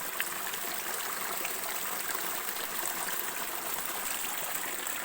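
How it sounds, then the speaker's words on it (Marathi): Water runs steadily through a small village drain channel with a cement-lined section, a continuous close trickling rush with no breaks and no voices. "हे बघा इथून पण पाणी येतं आहे."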